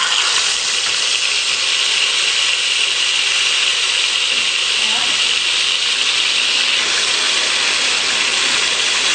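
Lamb shoulder being put into hot oil, a continuous loud broadband sizzle and hiss that holds steady throughout, with a voice faintly under it.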